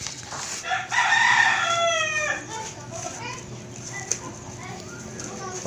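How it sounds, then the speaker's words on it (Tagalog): A rooster gives one loud, close crow early on, then calmer clucking and farmyard fowl sounds follow, with faint background voices. "Kasi kumakanta na yung mga manok"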